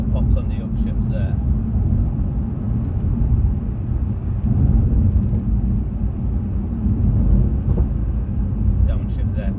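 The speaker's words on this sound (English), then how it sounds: "Downshift there, a couple of big cracks there." Exhaust of a Mercedes C63 AMG W205 with a 4.0 engine and secondary cat delete, sharp cracks and pops on downshift over a loud, steady engine rumble, with a few crisp bangs near the start and end.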